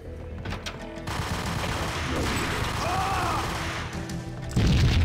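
Gunfire in the shooter game Max Payne: a dense, continuous fusillade of shots rumbling under the game's ambient din for several seconds, swelling into a louder, heavier burst near the end.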